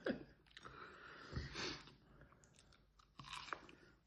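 A snack dipped in sauce is chewed close to the mic, soft crunchy bites and mouth sounds with a sniff or two, quiet and intermittent.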